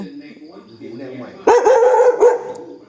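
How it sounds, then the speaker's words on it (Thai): A dog barks loudly at close range in a short burst of several sharp yips and barks in the second half, after a stretch of quieter voices talking. "แล้วก็เห่าด้วย"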